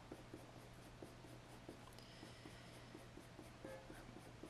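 Coloured pencil lightly shading paper while drawing a squirrel's leg, a soft, quiet scratchy rasp in quick short strokes, close and faint, with no speech.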